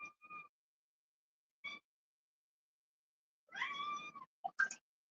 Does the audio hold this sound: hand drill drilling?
no